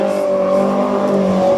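A Peugeot 205 race car at a hill climb roars close by, its engine note loud and sustained with a steady droning tone and slight tire squeal as it passes.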